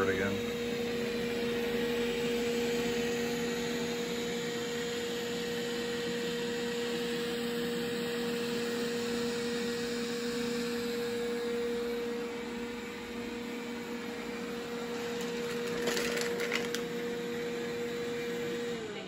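Roborock S5 robot vacuum running a spot clean over shattered glass, a steady close motor hum with a constant tonal whine that continues unbroken, with brief faint rattling near the end.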